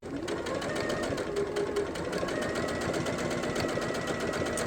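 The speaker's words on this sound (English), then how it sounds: "and I just sew a straight line." A sewing machine stitches a straight seam on quilting half square triangles, a steady close rapid needle rhythm that runs continuously with no pauses or talking.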